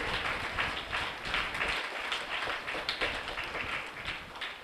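Church congregation applauding together, a steady dense patter of many hands clapping that fills the whole stretch at moderate volume, with no voice over it.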